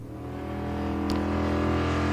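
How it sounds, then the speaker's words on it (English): Nostalgia drag racing cars from 1992 launch together at the green light, a dense, rising engine roar that builds and holds loud with strong low rumble. "Green light goes, and so do the cars."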